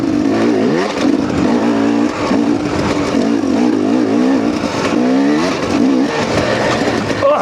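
A car with stiff suspension is driven hard, its engine droning loud and steady with rising and falling revs as it pushes over bumps, heard close from inside the cabin with no talking.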